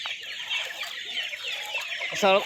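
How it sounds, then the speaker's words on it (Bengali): Farm chickens carried by boat to another village during flooding cluck and squawk repeatedly nearby, with one louder burst near the end and faint voices behind. "আমার আর এক ভাইয়ে ফার্মের মুরগি যেন নৌকায় করে নিয়ে যেতেছে অন্য জায়গায়"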